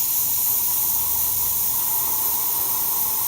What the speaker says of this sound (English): Do some steam here.